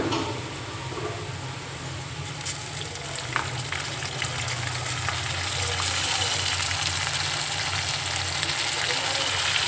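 Onions and shop-bought garlic paste fry in a pan for chicken curry, a loud, dense, continuous sizzle that swells slightly over time, close up with no talking.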